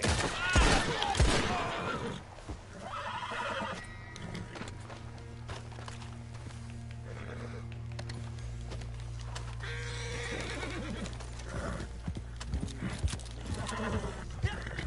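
Horse hooves gallop in steady clip-clop rhythm through Red Dead Online, with a whinny near the start and a low continuous game rumble beneath, loud and close throughout.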